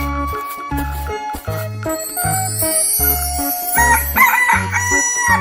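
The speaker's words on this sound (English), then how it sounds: "Chicken." A cartoonish rooster crow from a children's animal sound toy or song rings out over a bouncy musical backing with steady bass beats and tinkling chimes, fairly loud and continuous.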